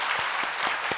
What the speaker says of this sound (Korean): 우리 크게 박수로 한번 환영하겠습니다